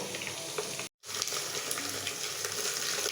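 Ginger garlic paste fries in a pan with a steady, even hiss of sizzling oil, broken once by a brief dropout near the start.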